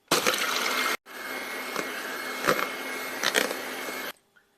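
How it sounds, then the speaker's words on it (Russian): An electric mixer whips cold egg whites without sugar, giving a loud, steady whirring rush that cuts out briefly near the start, resumes with a few louder bursts, then stops. "Начинаем взбивать без сахара"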